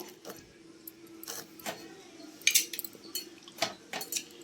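A spoon scrapes the seeds out of a muskmelon, making faint, close, irregular scrapes and light clinks.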